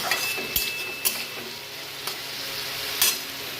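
Taro pieces fry in a pan with crushed chili and garlic, giving a continuous, even sizzle with a few sharp spatula taps spaced about a second apart.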